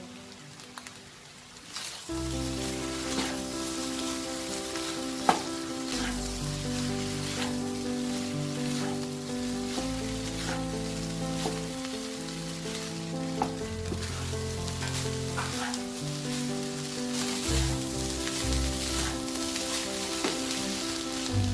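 Schezwan chicken fried rice being stir-fried in a hot pan, a steady loud sizzle with repeated scraping and tossing of the spatula that continues without a break.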